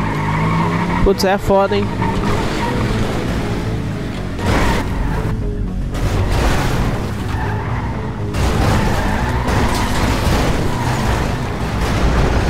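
Cars skidding and crashing in the GTA RP video game, a continuous roar of engine and tire noise with thumps of impact, with people talking over the top throughout.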